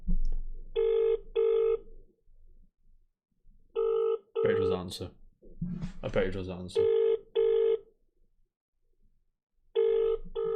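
An outgoing phone call rings out in repeated double bursts of electronic ringing tone, clear and close, with a person talking in the gaps between rings.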